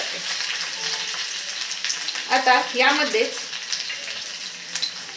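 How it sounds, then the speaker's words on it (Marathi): Spices and chillies sizzle and crackle in hot oil as a tempering for vada pav chutney, a steady frying hiss, while a voice speaks briefly over it. "मस्त जबरदस्त फोडणी बसलेली आहे"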